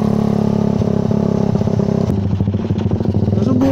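A stock-engine Suzuki R150 motorcycle runs close by with a loud, rapid, throbbing exhaust note, and its pitch shifts partway through as the engine is revved.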